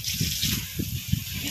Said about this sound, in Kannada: ಇಷ್ಟು ಪ್ರೆಸರ್ ಬರ್ಬೇಕು ನೀರು.